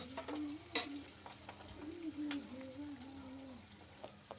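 Curry leaves go into hot oil left from frying fish, for a fish curry. A faint, steady sizzle of frying sits under occasional stirring scrapes and light clicks in a quiet kitchen.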